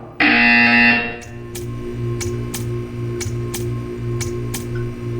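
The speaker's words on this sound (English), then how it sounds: "You will hear a buzzer. When you hear the buzzer, stare at the art." In Portal 2, a loud electronic buzzer blares for about a second, then a steady mechanical hum continues with regular sharp ticks pulsing in an even rhythm.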